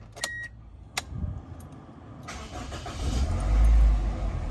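A car on a night drive along the Karachi seaview: a few clicks and a brief chime, then the engine starts and settles into a steady idle hum, swelling louder toward the end.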